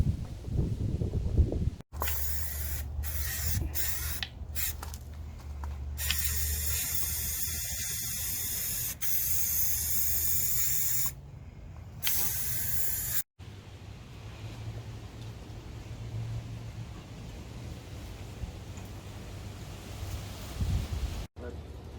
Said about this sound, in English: Now we're getting ready to spray paint the white.